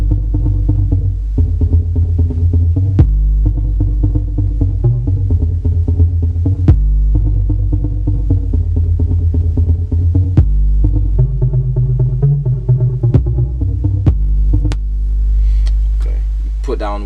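An old-school beat plays steadily, with a deep bass pattern under piano chords and drums, the kick hitting at regular intervals throughout.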